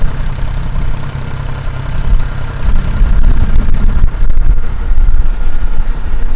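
A pluk-o-trak orchard machine's engine runs steadily through an apple orchard in heavy wind, a loud continuous low rumble that grows a little stronger partway through, with wind noise mixed in and no talk.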